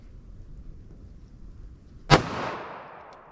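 A single sharp .45 ACP pistol shot, Fiocchi Defense Dynamics ammunition, fired during a gel test, cracks loudly about two seconds in after near-quiet background, followed by a short decaying echo.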